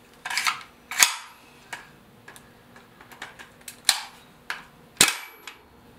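A GHK AKS-74U airsoft gas rifle dry-fired without BBs, giving a few sharp close mechanical snaps and clacks spaced irregularly, with smaller clicks of handling between them.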